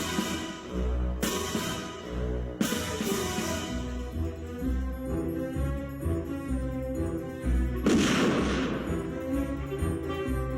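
The opening of a Roger Moore era James Bond gun barrel sequence, with a sharp gunshot crack and then loud orchestral music that swells and surges with heavy accents.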